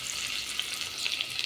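Sliced onions and green chillies fry in hot oil in a pan, giving a steady bright sizzle with small crackling pops, close and continuous.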